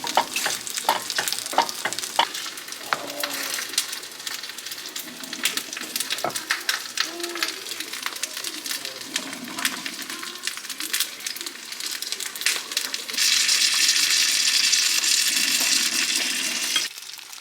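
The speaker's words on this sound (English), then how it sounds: "I'm just gonna like butter the pan now." Butter sizzles and fries in a hot pan for pancakes, a steady crackling hiss with scattered utensil clicks and stirring, growing louder and denser toward the end.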